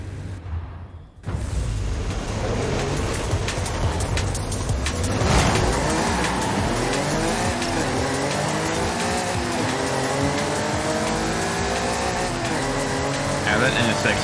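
An Acura NSX in Forza Horizon 5 roaring as it accelerates, its engine note climbing through gears in rising sweeps, with tire noise and a loud boom near the start. A person talks over the engine.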